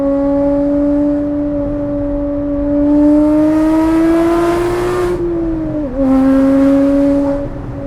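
A Porsche GT4 sports car's exhaust roars on a mountain highway, a sustained loud engine drone that rises in pitch, dips briefly near six seconds as the throttle shifts, then holds steady.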